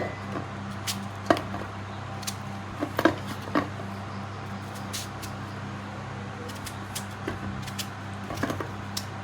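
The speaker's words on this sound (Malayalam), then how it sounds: "വെള്ളിരിക്ക അരിയുമ്പോഴേ ഇത്തിരി കട്ടിയിൽ അരിയണം കേട്ടോ" A knife chops through cucumber on a board for a Kerala mango pulissery, with a few sharp, scattered cuts spaced irregularly over a steady low kitchen hum.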